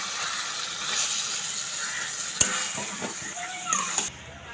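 Taro greens drop into sizzling spices in a pan with a splash of water, giving a soft continuous hiss with a sharp clatter midway and a few light knocks near the end.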